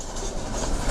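The Ooty toy train rolls past close by, a loud continuous rumble of wheels on rails with clattering undertones filling the whole moment.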